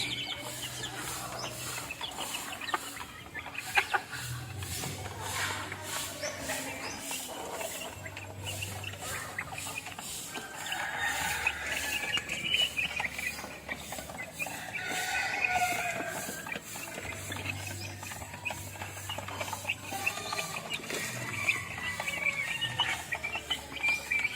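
Backyard Golden Boy chickens, about three months old, cluck steadily across the whole stretch at moderate volume, with no talking and a low steady hum underneath.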